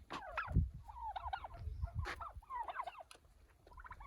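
Several rapid gobbling calls from a turkey kept with domestic breeds such as a Royal Palm, bursts that rise and fall in quick trills, fairly close and loud over faint background noise.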